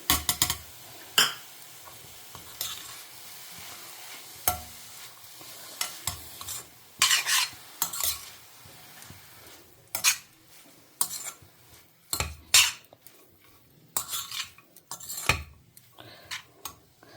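Spoon scraping and stirring beetroot sautéed with grated coconut in a pan for a Karnataka-style lunch, a series of short, sharp clinks and scrapes at irregular intervals over a faint sizzle, close by with no talk.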